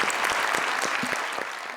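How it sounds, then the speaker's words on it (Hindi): Studio audience applause during a comedy poetry talk show, dense steady clapping from a large crowd at close range, holding loud for nearly two seconds before easing slightly. "बहुत सारी तालियां"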